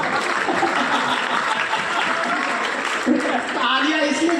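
Audience clapping at a Hindi kavi sammelan poetry gathering in Ratangarh, a steady dense patter of applause throughout, mixed with a few chuckles and overlapping speech.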